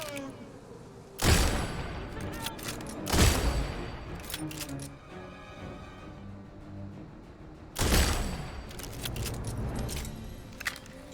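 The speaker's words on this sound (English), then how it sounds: "Man, this gun is so loud." Three loud, sharp gunshots from a firearm in the video game Redfall, each a hard broadband crack with a short decaying tail, spaced irregularly over quiet background game sound.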